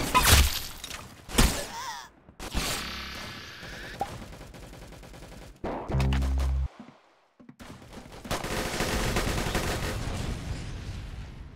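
Gunfire in the Roblox game Arsenal: sharp gunshots and rapid bursts crack out in quick clusters, broken by short gaps and game effect sounds, loud and close.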